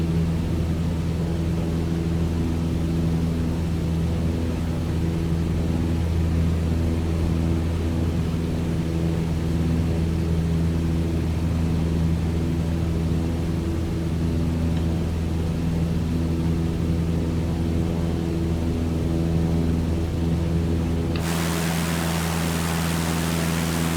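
A Cessna 152 piston engine drones steadily at climb power in Microsoft Flight Simulator, a loud constant hum with a sudden shift to brighter, hissier noise near the end.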